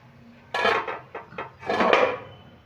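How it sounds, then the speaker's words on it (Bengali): A metal lid lifted off a pot of sweet potato jalebi soaking in syrup, a few close clattering knocks and scrapes of metal in quick bursts, with no talk. "এবার আমি ঢাকাটা খুলে নিচ্ছি"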